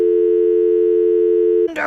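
A steady, loud electronic telephone line tone holds unbroken for almost two seconds at the start of a phone call recording, then cuts off into a brief crackle of line noise.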